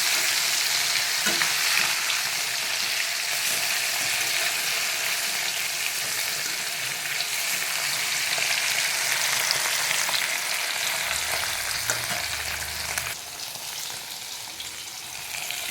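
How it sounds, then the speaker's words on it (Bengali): Rohu fish pieces frying in sizzling oil, a loud, dense, even crackle that holds steady throughout, with brief stirring and a slight drop near the end. "বাবা তেল ফুটছে।"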